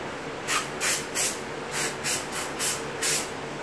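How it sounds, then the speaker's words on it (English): Contact cleaner sprayed onto a computer processor and memory during a budget PC build, heard as seven short aerosol hisses in quick, uneven bursts, close and fairly loud against a quiet room. "isprayan ko lang siya ng contact cleaner"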